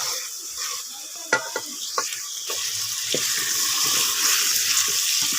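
Goat trotters fry in a spice masala and get stirred, a close sizzle broken by a few sharp scrapes and clinks of the spoon against the pan, with no talk.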